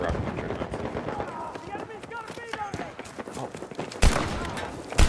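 Gunfire in a Gun Game video game match, rapid automatic bursts crackling under talk and game noise, ending with two louder, closer shots.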